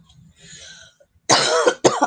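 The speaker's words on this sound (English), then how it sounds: "I can't do much about the cough though." A close, harsh cough, two sharp bursts after a moment of faint rustling, with no talking.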